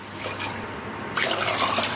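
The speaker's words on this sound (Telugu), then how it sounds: "3 కప్పులు వాటర్ వేసుకున్నామండి." Water poured over chana dal in a vessel, a short continuous splashing and trickling that grows louder partway through, close and clear with no talking.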